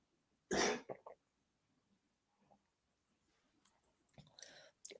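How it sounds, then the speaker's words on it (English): A sharp, close cough bursts out, followed by quiet small clicks and a second cough near the end in an otherwise hushed room. "Got a bit of a cough there,"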